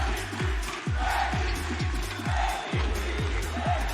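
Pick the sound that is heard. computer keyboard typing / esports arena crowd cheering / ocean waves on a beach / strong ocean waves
esports arena crowd cheering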